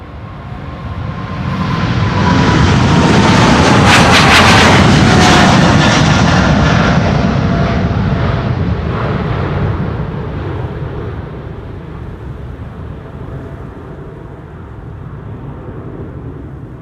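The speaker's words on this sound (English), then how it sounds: "American Airlines is also approaching." American Airlines airliner on approach into Amsterdam Schiphol on a windy day, a loud jet roar that builds, peaks as it passes close overhead, then fades into a lower rumble, with no voices.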